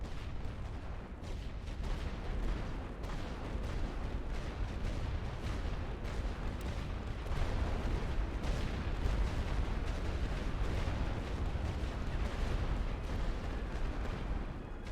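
Sustained artillery barrage fire in The Great War: Western Front game, a dense, continuous rumble of distant shelling with overlapping booms rolling on steadily without pause.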